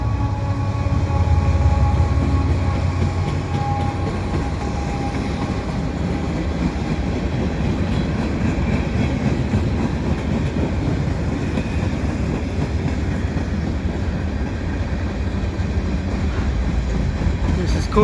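A heavy CN eastbound freight train rumbles steadily past at close range at Dorval, Montreal, a continuous low roar with faint rhythmic rail clatter throughout.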